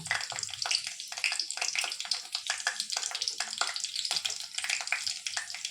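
Panch phoron and green chillies sizzling and crackling in hot oil for a Bengali winter vegetable curry, a steady dense hiss with sharp spattering pops throughout, close and fairly loud, no talking.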